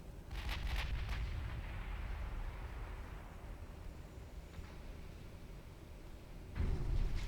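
A torpedo strikes a warship in the naval combat game Ultimate Admiral Dreadnoughts, giving a dull, rumbling explosion that swells and fades over several seconds, with a fresh burst of rumble near the end.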